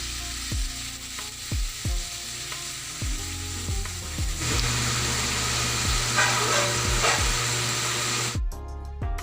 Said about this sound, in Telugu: ఆ నూనెలోనే టమాటాలు వేసి బాగా మెత్తగా అయ్యేంత వరకు బాగా వేయించుకొని తీసుకోవాలి.